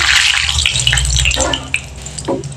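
Nigella seeds sizzling in hot oil in a pan while being stirred, part of preparing bata fish curry; a steady close crackling hiss with scraping stir strokes throughout.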